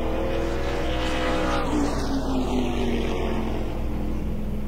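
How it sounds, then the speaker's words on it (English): Race cars lap an oval speedway during a night race, their engines holding a steady droning roar while one car sweeps past with a rising and falling pitch. "Here comes the other cars."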